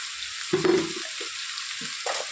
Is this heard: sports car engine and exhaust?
no